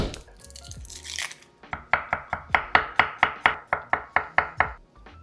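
A knife slices garlic on a cutting board: about fourteen crisp, evenly spaced chops, close and loud, following a brief rustle at the start.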